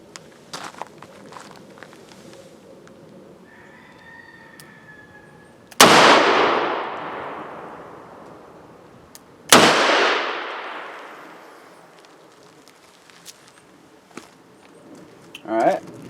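.357 Magnum revolver firing full-house loads of 110-grain bullets over 296 powder: two loud, sharp outdoor shots a few seconds apart, each with a long decaying echo, among faint handling noises.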